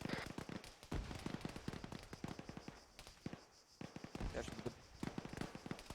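Arma III combat: sharp gunshots and bursts of gunfire crack repeatedly at varying distances, with a thumping explosion mixed among rapid popping reports, fairly quiet overall.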